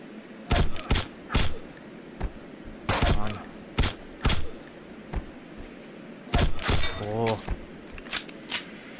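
Gunfire in a first-person shooter game, a series of sharp loud shots in irregular clusters, single cracks and quick doubles spread across the stretch, with short metallic game sounds between them.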